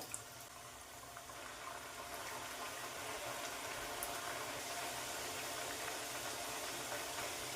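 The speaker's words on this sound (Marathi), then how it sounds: "मीडियम गॅसवर तेल कडकडीत गरम करून घेतलेलं आहे त्यात चकल्या सोडून आपण तळून घेऊया" Green chakli frying in very hot oil over medium heat, giving a steady broad sizzle and bubbling hiss that holds at an even level throughout, with no one speaking.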